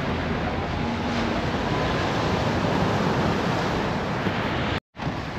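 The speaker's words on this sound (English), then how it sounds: "Here's the ocean." Ocean waves on the beach at Fuengirola make a continuous broad roar of surf mixed with wind rumble on the microphone, steady throughout, with a brief dropout near the end.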